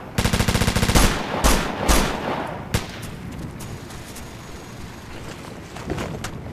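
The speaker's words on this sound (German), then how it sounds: "Unterdrückungsfeuer!" Bursts of suppressing automatic gunfire in Operation Flashpoint: Dragon Rising, a rapid rattling volley at the start, then scattered loud single shots and distant cracks over a noisy battlefield backdrop.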